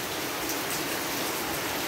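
Heavy rain pours down in a dense, steady hiss of water with no pauses, loud and close, with no voices over it.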